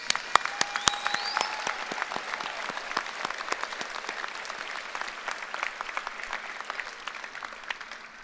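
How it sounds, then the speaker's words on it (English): An audience at a university new student convocation applauds steadily with dense clapping that stays even throughout and carries a faint background tone. "Please give Mr. Ferguson a round of applause."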